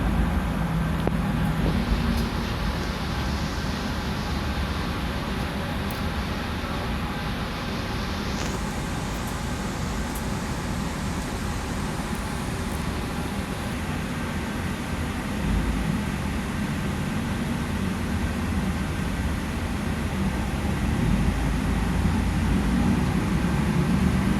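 ALS 171 Super Executive bus rolling through the Cawang toll gate, a continuous broadband drone of engine, tyres and road noise heard from inside with surrounding traffic, fairly loud and steady throughout with no talking.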